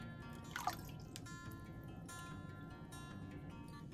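Water poured into a container while measuring for sourdough bread, a few faint splashes and drips in a quiet indoor room.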